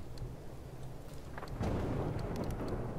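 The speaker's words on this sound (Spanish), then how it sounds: "Wow, esos truenos." Thunder in the video game God of War rolls as a deep rumble that swells louder partway through, with scattered crackling over a low background.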